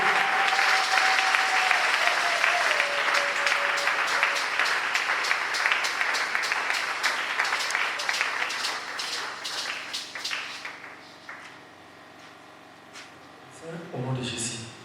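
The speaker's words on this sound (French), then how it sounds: "Merci à l'acclamation." A church congregation applauds, loud sustained clapping that slowly thins and fades over about ten seconds, followed by a quiet pause and a voice starting to speak.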